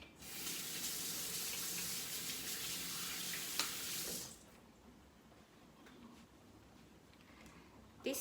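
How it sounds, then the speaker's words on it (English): A kitchen tap runs steadily while hands are washed beneath it for about four seconds, then shuts off, leaving a quiet room with faint handling noises. "I will just wash my hands again"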